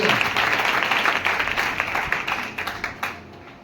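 Congregation applauding during a Hindi-language church sermon about the Holy Spirit: a dense, steady burst of many hands clapping, fairly loud and close, thinning out and fading toward the end.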